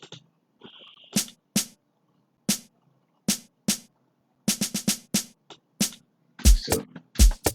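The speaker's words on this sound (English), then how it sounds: "Then I added this snare also." A programmed snare drum in an FL Studio beat for a remake of a song, hitting alone in sharp, crisp, evenly spaced strikes with occasional quick doubled hits, fairly quiet.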